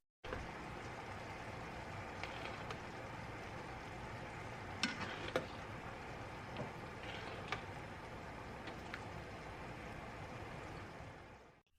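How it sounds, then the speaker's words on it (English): Sauce simmering in a pan, a steady dense bubbling sizzle running continuously at moderate level with a few small clicks and spikes partway through, no voices. "just let that simmer until it has like semi thickness consistency"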